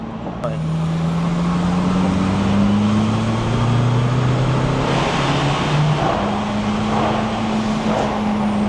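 A tuned 1.9-litre diesel pickup engine revs loudly and close, its pitch rising and falling in steady sweeps, while people talk over the engine noise.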